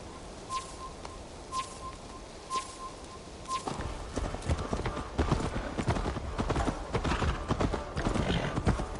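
Horse hooves clip-clop at a steady walking pace in Assassin's Creed Valhalla, starting as sparse soft steps with a faint tone, then growing into dense, busier hoofbeats with birdsong in the background.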